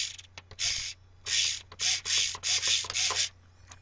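A tiny servo on an ultra-micro paper-plate RC plane drives the elevator back and forth in a series of short, close whirring buzzes, about six bursts with small clicks between them.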